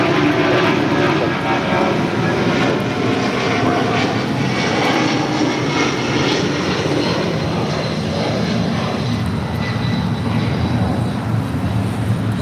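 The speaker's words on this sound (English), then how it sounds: "This is Delta Airlines 878 taking off to Boston on the 757-200." A Delta Air Lines Boeing 757-200 takes off from Los Angeles International, its powerful jet engine roar loud and sustained from start to finish with no voices over it.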